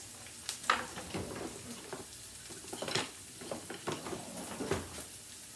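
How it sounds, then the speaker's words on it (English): Onion and garlic frying in a pan over a medium-low flame while linguine with zucchini sauce is prepared, giving a soft, steady sizzle with scattered crackles and light stirring clatter, fairly quiet and close. "Lower the flame to medium low. Let our onion and the garlic get like a little golden brown"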